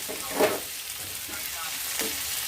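Coriander leaves and tamarind sautéing in a pan for chutney, a soft steady sizzle broken by a few brief stirring scrapes.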